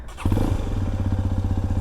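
A Hero Xpulse 210 motorcycle engine catches and settles into a steady, loud, close thumping idle with an even rhythmic pulse.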